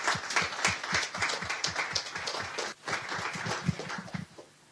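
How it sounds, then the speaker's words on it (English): Audience applause for speakers at a technology talk event, a rhythmic spread of clear hand claps that briefly dips, resumes, then tapers off at the close. "can we start with a round of applause for all of our speakers?"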